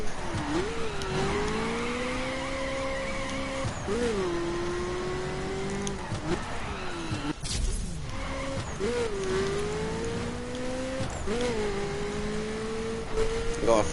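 A Ferrari F40 LM race car in The Crew video game drones along under sustained engine tone, with repeated gear-change dips and swells in pitch roughly every few seconds, loud and continuous.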